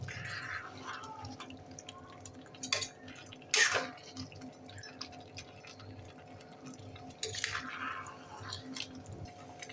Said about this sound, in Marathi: आता हे परत एकदा मिक्स करूया.